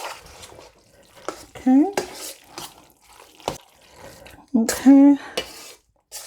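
A spoon stirs a macaroni and cheese mixture in a pan with wet clinks and scrapes, close and intermittent, while a person speaks briefly between the strokes.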